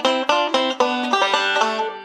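Banjo picks a quick roll of bright notes, grabbing the fifth string after a brush, close and clear with ringing overlapping tones over about two seconds.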